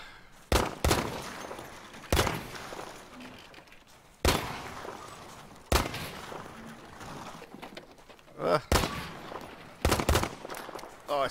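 Gunfire on the Battlefield V practice range, heard as single sharp shots spaced every second or two, moderately loud against a quiet ambient background.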